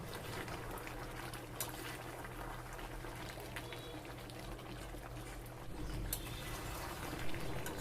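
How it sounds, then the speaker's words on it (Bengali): Meat braising in a covered pot on a high gas flame gives a steady, fairly quiet bubbling sizzle with a low hum and occasional faint pops, unbroken throughout with no voices. "এই সময় গ্যাসটা হাই ফ্লেমে রেখে ঢাকা দিয়ে মাংসটা কষাবো"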